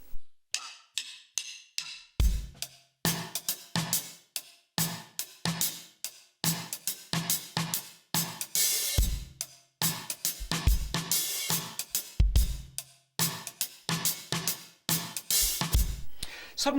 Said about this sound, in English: the funky hip-hoppy kind of groove, cross stick on the snare.